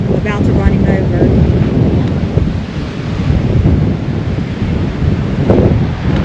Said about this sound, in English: just hearing the sound of the waves crashing on the shore is relaxing